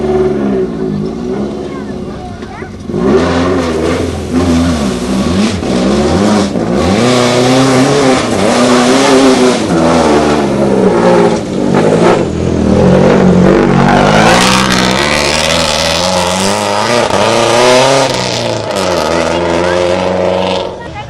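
Rally cars race flat out in a Kenyan national cross-country championship, engines revving hard and shifting through gears at close range as they pass, while a commentator talks over the noise.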